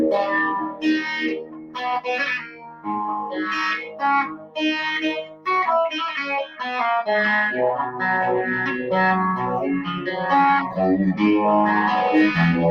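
Guitar played through a Keeley Electronics Super AT Mod Overdrive pedal, with crunchy distorted chords and riffs ringing out in short phrases and brief pauses, moderately loud with some chorus-like shimmer and no talking.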